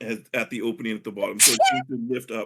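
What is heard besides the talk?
sneeze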